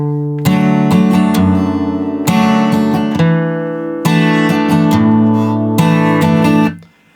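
Acoustic guitar plays the second verse of a song, steady strummed chords ringing in repeated bursts at close range with no voice, fading out at the end.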